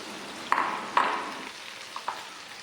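Dog snacks of banana stem and chicken frying in hot oil, with faint sizzling broken by a few soft stirring knocks and clinks.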